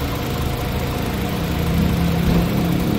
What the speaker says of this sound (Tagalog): napaka-stable and fine yung idling